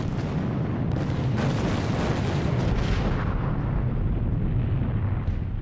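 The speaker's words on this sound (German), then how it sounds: "Dann gingen die Bomben los." Heavy booming bomb explosions in a World of Warships naval battle rumble one after another, deep and loud, blending into a continuous roar of blasts.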